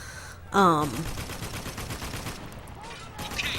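Gunfire from the video game Spec Ops: The Line during a fight against enemy snipers and RPG troops, with bursts of shots rattling steadily through the clip and a short vocal sound near the start.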